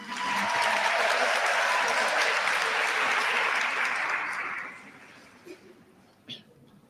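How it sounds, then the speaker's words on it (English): An audience claps for a candidate at a business school graduation ceremony, a dense burst of applause that holds for several seconds, then fades to a few scattered claps. "Let's give a round of applause for our very first candidate for the evening, Priscilla Matangu."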